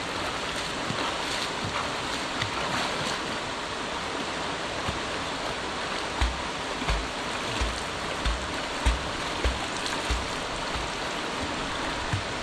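Steady broadband rush of river water on the Amazon, continuous and fairly faint, with occasional soft low knocks and no voices.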